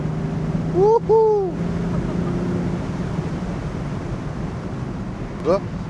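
Wind rushes steadily into an open-top BMW 435d Cabrio F33 while driving, a constant broadband roar with brief high squeaky tones near the start and again near the end.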